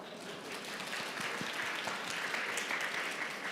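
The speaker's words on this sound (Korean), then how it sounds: "다시 한번 큰 박수로 네 분을 격려해 주시고" An audience at a public-sector recruitment fair talk show gives sustained applause. Dense, steady clapping from many hands sounds from a moderate distance, fairly soft and even, with no speech over it.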